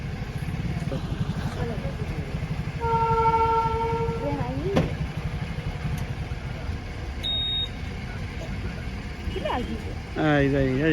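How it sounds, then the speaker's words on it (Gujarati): A train rumbles past with a steady rolling clatter, its horn sounding in a few tones; people talk in the background amid traffic noise. "સો અહીં ટ્રેન આવે છે"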